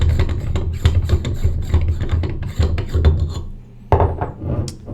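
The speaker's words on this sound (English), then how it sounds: "unscrew the housing here" The housing of an 800 Series LCD explosion-proof display is unscrewed by hand, producing close, rhythmic rasping and grinding of threads in repeated turns, with a short pause before a final twist.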